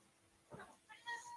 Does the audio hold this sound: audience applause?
no